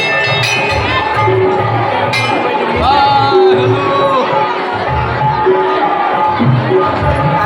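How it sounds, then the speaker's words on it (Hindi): A crowd at a temple fair at Baba Dhankeshwar Nath temple, with loud continuous babble, shouts and chatter, bells or chimes ringing now and then, and voices close by throughout. "बाबा धनकेश्वर नाथ के मंदिर में बहुत भीड़ लागि रहल छै"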